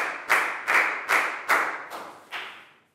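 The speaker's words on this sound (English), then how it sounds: "big round of applause for a bang pun" Primary school classroom applause during a Year 4 science lesson, six loud rhythmic claps in an even beat with short reverberant decays and no speech.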